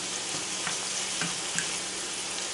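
Ground chuck browning in a frying pan, a steady, dense close sizzle with a faint hiss throughout and no talk.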